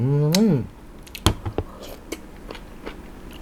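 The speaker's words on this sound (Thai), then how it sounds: "เรามากินกับน้ำจิ้มซีฟู้ดแซ่บๆ ของเรานะครับ" Blanched jumbo cockles dipped in spicy seafood sauce are bitten and chewed up close, a few soft crunchy bites and wet squishes spaced over a few seconds after a brief vocal sound at the start.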